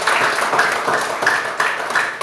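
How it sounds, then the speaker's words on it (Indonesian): A group in a classroom gives a round of applause, a steady dense patter of many hands clapping close by with small swells, no talking. "kita berikan tepuk tangan buat kelompok"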